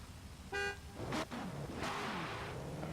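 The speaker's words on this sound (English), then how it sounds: "honk your horn" A drift car at a qualifying event gives one short horn honk, followed by engine revs and whooshing vehicle noise outdoors.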